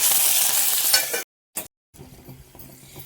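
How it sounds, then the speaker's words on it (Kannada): Hot oil sizzling loudly as green chillies and curry leaves are fried for a chana dal curry, a dense frying hiss for about a second, then a sudden drop as a lid is put on, with a brief burst and faint muffled crackle afterward. "ಸಿಡಿಯತ್ತೆ ಅಂತ ಸ್ವಲ್ಪ ಮುಚ್ಚಿಬಿಡೋಣ."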